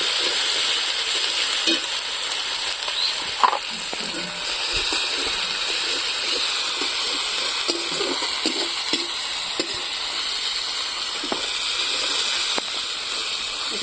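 Ground spice paste of ginger, garlic and cumin sizzles and hisses steadily in a hot pan, with occasional stirring clicks and scrapes throughout.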